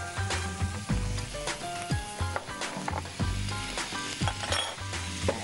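Water poured into a hot pan of sizzling garam masala spices, a loud continuous sizzle and crackle with metal utensil clinks and stirring scrapes, no talking.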